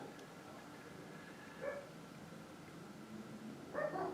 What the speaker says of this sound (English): Oh, the dogs are barking.